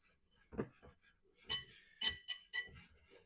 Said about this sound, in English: just use a whisk and whisk it together